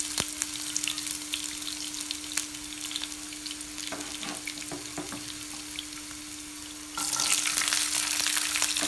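Onions and crushed garlic fry in a pan for drumstick leaf kootu, a continuous sizzle with scattered spatula clicks and scrapes, growing louder and brighter near the end.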